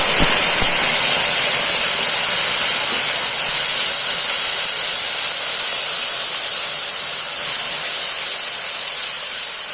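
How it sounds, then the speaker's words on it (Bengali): Onion paste frying in oil in a wok with whole cinnamon, cloves and cardamom, for Kashmiri aloo dum with peas and baby potatoes, giving a loud, even, close sizzling hiss that eases slightly near the end, with no talking. "এখানে এই যে পেঁয়াজ যে বেটে রেখেছি সেটা ছেড়ে দেবো।"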